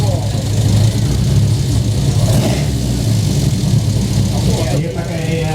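A car fitted with four throttle bodies idles at an outdoor motorsport event in Malaysia, a steady rough low engine rumble close by, with people talking over it.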